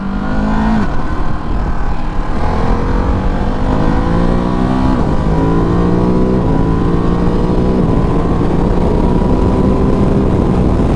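A 2023 Ducati DesertX on knobby tires accelerates hard in sport mode onto a highway, engine climbing through several gears with rising pitch and brief dips at each shift, loud and close over heavy wind rush.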